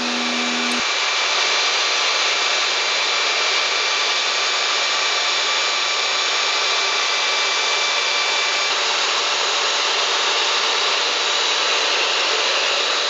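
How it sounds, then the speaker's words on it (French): A belt sander runs over a wooden partition made of glued slats, a loud steady abrasive roar that starts abruptly and holds evenly throughout with no voices. "je passe sur la ponceuse à bande"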